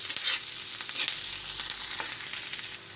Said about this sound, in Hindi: एबे आमे इथिरे ऐड करिबा काजू को आज भी किछ समय हम एमती फ्राई करिबा